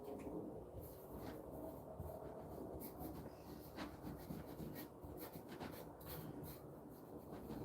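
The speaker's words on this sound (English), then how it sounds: "just going to fill it in with some sawdust and sand it and see what happens." Sawdust-filled wood being sanded by hand in a garage, a continuous coarse rubbing and scraping with a steady back-and-forth texture, fairly quiet and close, no talking.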